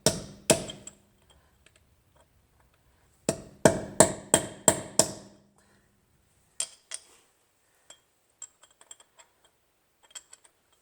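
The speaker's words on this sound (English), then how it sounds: "we need a punch and a hammer" Sharp metallic hammer strikes on a punch during a 2004–2007 Toyota Highlander front-end rebuild, in two quick bursts of rapid blows, then scattered lighter taps and clicks, close and otherwise quiet.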